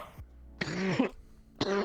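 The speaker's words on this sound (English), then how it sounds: "You've got a gnarly cough." A person with a cold coughing, two short harsh rasping bursts close by, separated by a quiet breath-filled gap.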